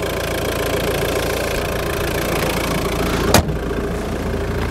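A used Volvo V40 engine idles steadily and close by, a constant mechanical hum with a light ticking texture and a brief knock near the end.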